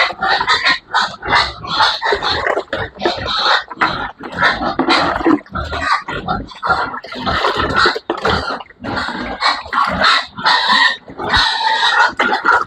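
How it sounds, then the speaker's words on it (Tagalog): Fattener pigs squeal, grunt and oink loudly in a pen, many overlapping close calls in irregular bursts. "Umiingay naman ng mga fatteners."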